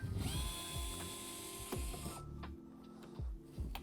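Small mechanical whirring and ratcheting from a driver backing out T15 Torx screws on a C8 Corvette Z06 or E-Ray during a rock guard install, with several short bursts and clicks close by, no talking.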